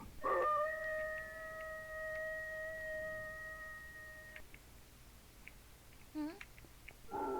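A werewolf in Minecraft gives a long, drawn-out howl that holds steady for several seconds before cutting off, followed by short yelping cries and scattered game noises, fairly quiet overall.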